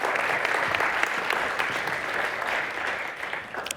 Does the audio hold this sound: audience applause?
yes